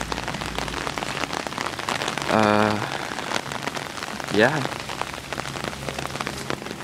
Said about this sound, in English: It's been raining in Los Angeles for like 4 days in a row now or something.